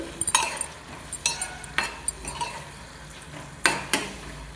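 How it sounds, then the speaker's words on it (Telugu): Dried fish frying in oil in a pan and being stirred, with sharp metallic scrapes and clinks of the spoon against the pan coming in irregular bursts over a steady soft sizzle. "ఈ ఎండు చేపలు అయితే కడిగి పక్కన పెట్టుకున్నాను కదా, ఇవి కూడా ఒకసారి వేసేసుకుంటే ఇప్పుడే మంచిగా దేంట్లో ఆయిల్లో ఫ్రై అవుతాయి."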